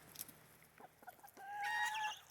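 Bantam chickens cluck and call in short bursts, then a bantam rooster lets out a thin, high crow, fairly close in a quiet setting.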